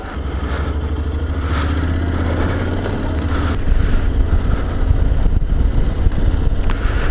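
A Honda X-ADV scooter engine idles right after ignition with a deep steady thrum, then revs up into a louder rougher drone mixed with wind buffeting on the microphone, close and prominent.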